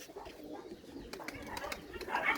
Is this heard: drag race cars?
no